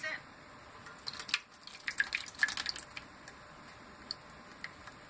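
Homemade crock pot yogurt poured through a cloth strainer, dripping with soft, irregular little drips and splats, quiet and close over a faint steady background hiss.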